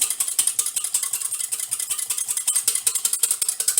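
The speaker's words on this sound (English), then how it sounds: "I'm going to take my whisk and I'm going to whisk all this together" Almond extract and lemon juice are whisked together in a bowl, making a quick, steady run of light ticking clicks, evenly paced and close, with no voices.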